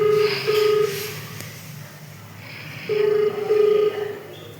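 A telephone rings in two separate bursts, each a steady electronic warble that repeats in a short double pattern. A quiet pause falls between the bursts, with low background noise underneath.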